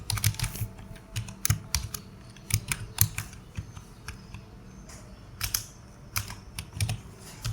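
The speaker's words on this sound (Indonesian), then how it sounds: "Kemudian WPA preset key kita ketikkan password WiFi-nya." A Wi-Fi password is typed on a computer keyboard, each key giving a close, crisp click in quick uneven bursts with brief pauses between them, and no talking.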